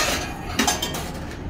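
Pots and pans are handled in a home kitchen while an oven heats, with a few quick metallic clanks and clinks close by over steady background noise.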